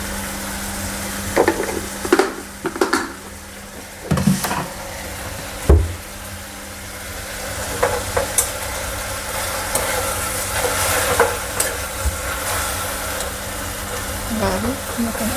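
Spicy water spinach (kangkung) stir-fried in a pan in a home kitchen, a continuous sizzle punctuated by sharp clanks and scrapes of a spatula against the pan.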